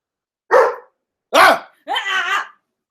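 A dog barks three times close by, two sharp single barks followed by a longer, wavering bark, with silence between each.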